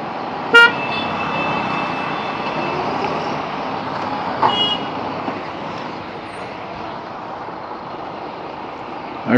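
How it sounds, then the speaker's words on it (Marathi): Traffic on the NH 66 Mumbai–Goa highway near Sangameshwar as a truck turns: a steady broadband roar of vehicles with a short horn blast early on and another midway, both fairly close. "ट्रक टर्न मारतोय"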